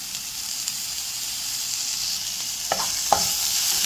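Onions fry in a pan with curry leaves and ginger garlic paste, a steady close hiss of sizzling oil with a couple of brief scraping stirs near the end; no talking.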